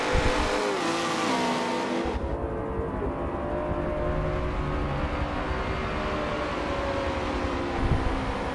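McLaren and Mercedes race cars roar past at Daytona during a Michelin Pilot Challenge race, engines droning steadily with a loud close pass at the start, then a sustained racing hum.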